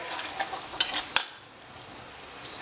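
Chilli chicken with a splash of vinegar being stirred in a pan: a few sharp spoon-on-metal clinks and scrapes over a faint background hiss, with no talking.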